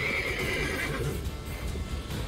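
A horse in the video game The Witcher 3 gives a loud, close whinny over clip-clopping hooves, heard without talk.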